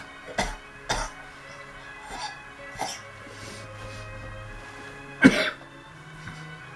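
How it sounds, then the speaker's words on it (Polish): Several sharp coughs from a person with an irritated, sore throat, close and fairly loud, coming in separate bursts with pauses between them and the strongest cough near the end. "mam tak podrażniony gardło, że nawet jak się wygłupiam, natychmiast to wzbudza kaszel"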